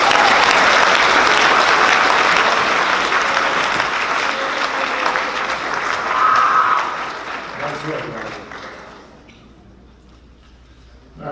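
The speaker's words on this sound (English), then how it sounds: "you're going to have to stand up and take some applause" An audience at a school academic awards assembly applauds an award recipient, loud continuous clapping that gradually fades out near the end, with faint voices mixed in.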